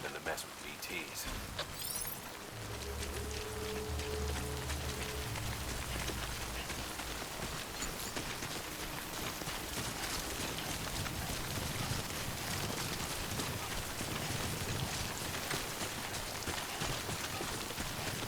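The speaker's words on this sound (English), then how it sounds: "Good thing it was raining." Rain falls steadily in Death Stranding, a constant soft patter and hiss on surfaces kept fairly quiet, with a few low tonal swells early on and speech running over it.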